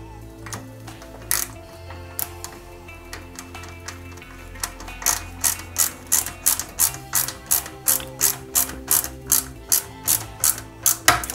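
Small screws are driven into a Bugatti Veyron 16.4 Super Sport scale model, giving a close, steady series of rapid clicking ratchet bursts, about two per second, after a few scattered earlier clicks.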